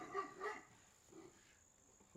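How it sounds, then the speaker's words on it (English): A small dog barks a few times off in the background, two quick yips early on and then a fainter one, against a quiet room. "Little dog barking in the background there."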